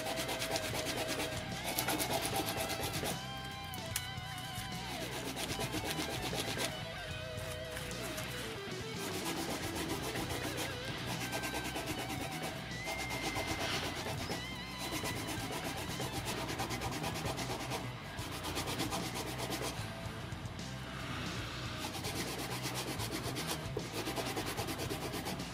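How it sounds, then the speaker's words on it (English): A fret eraser rubbed steadily along the frets of a Jackson Warrior WRXT electric guitar, giving a continuous, fairly quiet scraping with a slightly uneven back-and-forth rhythm. "Nothing too fancy here, just rub it along the whole size of the frets."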